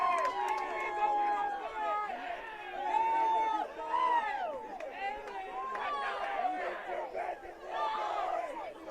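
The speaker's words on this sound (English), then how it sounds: "Crowd going bananas here at Ives Lamel Family Field." Spectators at a men's college soccer match between Brevard and Sewanee roar and shout together in a dense, loud, continuous swell of crowd noise and yelling late in the game.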